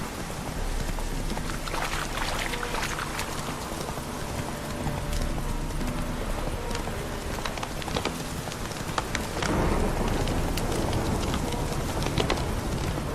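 Steady clip-clop of horse hooves in the video game The Witcher 3: Hearts of Stone over a constant rain-like hiss, continuous for the whole stretch with a brief louder burst near the end.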